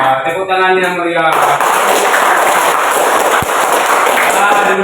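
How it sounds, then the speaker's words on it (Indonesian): Children applaud in a classroom: a brief adult voice gives way to loud, dense, sustained clapping from many small hands that fills the rest of the moment. "Tepuk tangan yang meriah."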